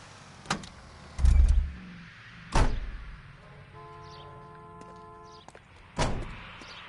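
A 1940s-era car in L.A. Noire: several solid door thunks and clunks, then a low engine hum idling in between before another heavy door slam.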